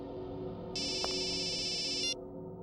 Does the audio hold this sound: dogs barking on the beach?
no